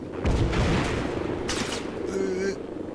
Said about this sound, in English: So if you can control the rate of fire, it's fucking lethal, this fucking gun.